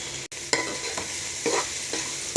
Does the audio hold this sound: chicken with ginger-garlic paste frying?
yes